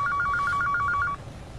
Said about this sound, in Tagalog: Sagutin mo yung telepono.